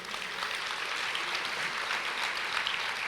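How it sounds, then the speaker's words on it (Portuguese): Congregation applauding during a church sermon, a steady wash of many hands clapping at moderate distance, continuous with no speech over it. "Você pode aplaudir o Senhor?"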